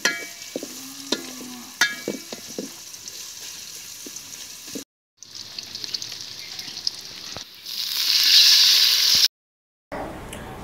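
Spices being stirred into a curry of stinging catfish and green plantain in a pan: scraping stirs over a light fry, then a loud, steady sizzle with a couple of brief dropouts.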